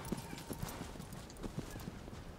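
Horse hooves clip-clopping in the video game Shadow of the Colossus, a quick steady rhythm of soft hoof strikes, faint and low in level, with no talk over it.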